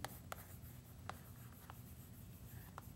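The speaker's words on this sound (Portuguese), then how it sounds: "Deixa eu escrever aqui." Chalk or marker strokes sound on a board while a number is being written, as a handful of faint, quick scratches and taps spaced irregularly over quiet room noise.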